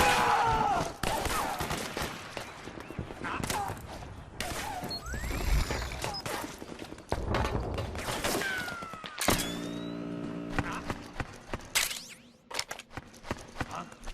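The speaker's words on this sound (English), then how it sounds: "We got company! Suppressing fire!" Suppressing gunfire in the video game Metal Gear Solid 4, with bursts of shots, mechanical clanks and impacts in a busy, chaotic mix over about fourteen seconds.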